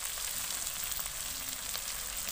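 Spice paste frying in a pan for a fish and kudri dish, a steady soft sizzle that holds at a low, even level with no one talking.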